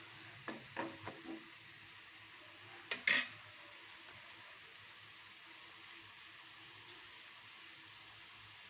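Coconut powder cooks in oil, a faint low sizzle with a few soft stirring taps and one sharp clink of a utensil against the pan, otherwise quiet.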